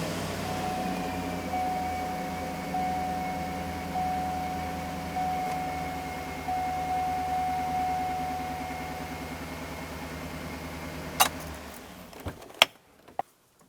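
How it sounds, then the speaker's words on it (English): A 2007-2014 Cadillac Escalade engine idles after an oil change, a steady low drone with a thin whine, then cuts off, leaving a few sharp clicks and knocks. "Now we're going to start the vehicle up for 10 seconds."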